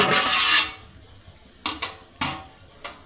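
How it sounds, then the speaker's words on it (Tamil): Spicy country-style river crab curry bubbles in a pot, opening with a loud hissing bubbling rush that quickly fades, followed by several short sharp bursts of bubbling and clinks close by. "பாருங்கள் நல்லா கொதிச்சுக்கிட்டு இருக்கு"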